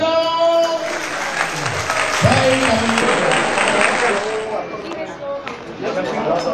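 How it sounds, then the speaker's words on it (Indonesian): Crowd applause at an outdoor political party inauguration in Samosir, clapping and cheering mixed with shouting voices and background noise, loud and close throughout. "Tepuk tangan dong!"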